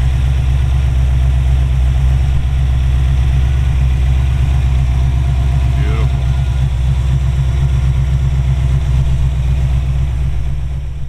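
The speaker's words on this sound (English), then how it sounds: "Underneath the hood is a 302 V8 that's been built up to about 500 horsepower," A 1972 Ford Bronco Sport's built-up 302 V8, around 500 horsepower, idles steadily with a deep, constant low rumble running through the whole stretch, loud and close, with a brief faint chirp partway through.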